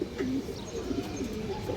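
A large male pigeon gives a short, low coo, soft rolling notes repeated over a steady background murmur of other birds.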